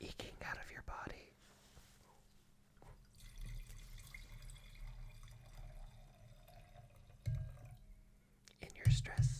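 Wine trickles softly into a glass, a faint liquid pour heard close up against a quiet background, with louder bumps and handling noises near the end.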